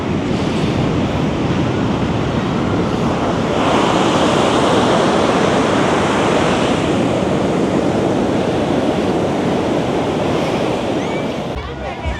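Surf rolls steadily onto busy Petitenget Beach in Seminyak, Bali, at sunset. The wash of breaking waves is loud and continuous, roughened by wind buffeting the microphone, and eases slightly in the final second.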